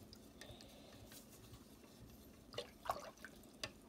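Spoon stirring white paint into a glass of warm water, a few soft clinks and liquid swishes near the end, quiet and close with no voices.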